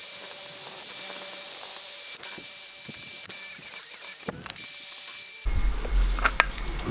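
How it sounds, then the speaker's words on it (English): A wire brush scrubs the inside of a subframe bushing bore on a Nissan 350Z, a steady dry hiss with repeated scraping strokes, close and alone, ending in a louder rougher rubbing burst. "clean the inside with a wire brush just to get anything out that's stuck"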